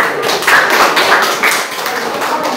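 A classroom group applauds for the final group, producing dense, steady clapping that fills the room for the whole moment without pause.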